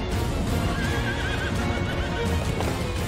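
Horse hooves clip-clop at a steady gallop with a loud neigh, from a flying mount in the video game Final Fantasy 16, sounding close and continuous under a game score.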